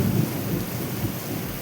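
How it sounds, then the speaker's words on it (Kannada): Heavy downpour with a deep rolling rumble of thunder through the first moments, the rain a loud, steady hiss beneath it, close and continuous with no voices. "ಮಳೆ ತುಂಬ ಜಾಸ್ತಿ ಆಗ್ಬಿಡ್ತು."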